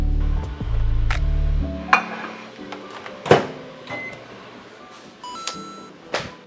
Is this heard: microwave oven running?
yes